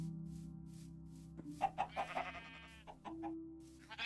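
Chickens in the Minecraft video game give a quick series of short clucks, clear but fairly quiet over a faint steady background hum.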